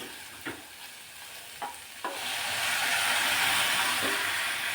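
Warm milk poured into grated carrots fried in ghee for carrot halwa: a few sharp utensil clicks, then a loud, steady hissing sizzle that swells and holds to the end.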